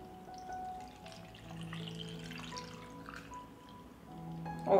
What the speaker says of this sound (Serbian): I sada ću surutku sipati u teglu.